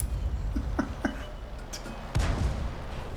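Gunfire from an M44 rifle in an online shooter game: a few sharp cracks spaced apart, then a heavier blast near the end, with busy game noise between them.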